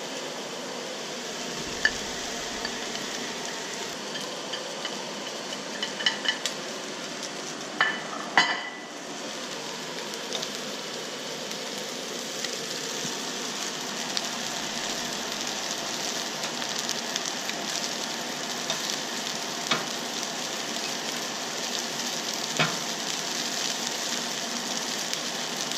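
Quinoa fried rice sizzling steadily in a hot pan for a long stretch, with scattered scraping and clinking of a utensil stirring against the metal.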